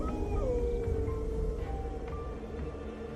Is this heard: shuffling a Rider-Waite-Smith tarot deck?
no